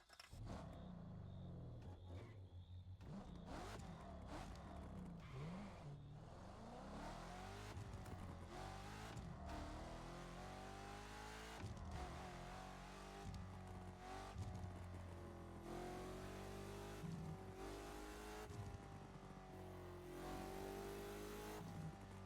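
A Mercedes-AMG One in The Crew Motorfest racing game revs hard and accelerates through the gears. The engine note climbs, drops and climbs again in repeated up-shifts, loud and continuous with no talk.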